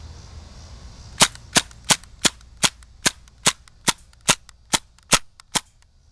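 An Umarex TF11 Tactical Force airsoft machine gun fires on semi-automatic, a regular series of about thirteen sharp, loud, close snaps spaced roughly a third of a second apart after a moment of quiet.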